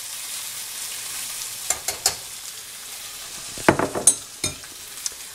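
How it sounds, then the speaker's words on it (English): Ground meat sizzles steadily as it is broken up and stirred in a hot pan for a stir fry, with a few sharp scraping clicks of the utensil against the pan over the constant frying hiss, no talk. "So like most stir fries, it's going to go very quickly. I'm just breaking it up a little bit so that I don't have raw meat in there"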